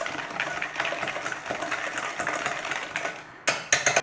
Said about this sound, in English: Let's get it all whisked in there.